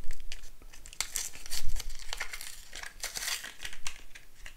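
A Xiaomi Mijia sonic electric toothbrush replacement head being unwrapped, close crinkling and tearing of plastic packaging in quick irregular bursts, with no talking.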